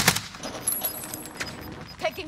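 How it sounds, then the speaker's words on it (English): Gunfire in a video game, with several sharp shots scattered over two seconds against a dense, noisy battle backdrop. Faint voices can be heard under the shooting. "They're still shooting me through the rocks."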